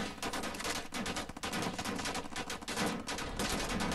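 Sustained automatic gunfire in the shooter game Wolfenstein: The New Order, rapid repeated bursts firing almost continuously for about four seconds, loud and close with brief gaps between volleys.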